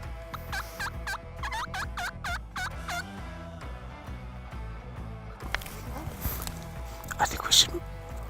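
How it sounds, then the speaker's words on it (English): Wild turkey tom gobbling in a rapid burst of rattling calls, repeated a few times early on, over music and background noise with a voice talking. "Calling and listening for the reply of gobbles, we've located another tom."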